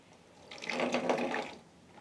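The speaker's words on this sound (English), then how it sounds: "Hot water." Hot water runs from a tap in a house under renovation during a plumbing pressure and heating test: a soft, brief gush that swells and fades within about a second, alone and fairly quiet.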